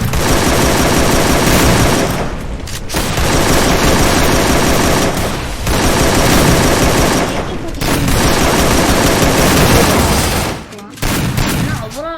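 Sustained, loud, close-range automatic gunfire from a shooter game comes in long bursts with brief gaps between them.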